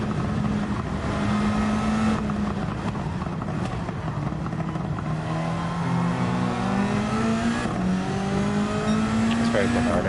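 Race car engine in Gran Turismo 7 climbing and dropping through gears, a steady loud rev with rising harmonic sweeps and shift breaks, under continuous nearby talk.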